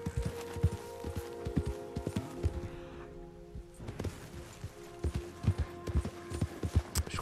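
Horse hooves in Red Dead Redemption 2 clip-clop in an uneven walking rhythm, sharp clear knocks over a low synthetic hum, with a brief pause midway.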